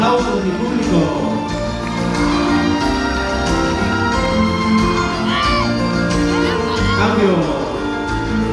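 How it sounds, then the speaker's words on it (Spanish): Lively audience at a quinceañera-style party cheers and shouts for the chambelanes, a continuous crowd roar with whoops and children's shouts over music, steady and loud throughout. "El aplauso de mi público."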